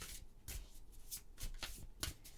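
Tarot cards being shuffled by hand, quiet, close riffling bursts repeating every half second or so with soft slaps between them.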